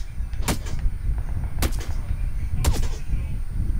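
Three sharp gunshots from an M24 rifle in PlayerUnknown's Battlegrounds ring out at uneven intervals, each a loud crack with a brief tail, over a low rumbling background.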